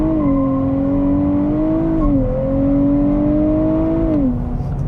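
A 2023 Nissan Z launching under launch control with the throttle floored: a loud, close engine drone climbing steadily in pitch, dipping briefly at two gear shifts, then pulling hard again.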